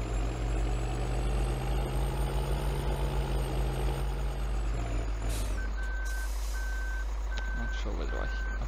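Truck in the Farming Simulator 2013 video game, compacting a biogas pile, with a steady engine drone, a hiss like an air brake, then a string of evenly spaced reversing beeps.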